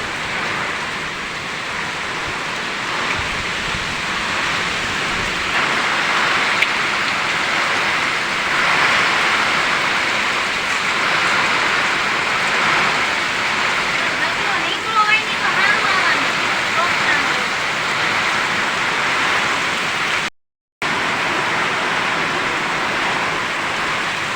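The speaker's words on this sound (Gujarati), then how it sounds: "જોરદાર વરસાદ પડે મિત્રો, ને પવન છે કાંઈ ઘટે નહીં એવો" Heavy rain driven by strong wind during a storm over farmland, a dense, steady roar of downpour that persists throughout with only a brief dropout near the end.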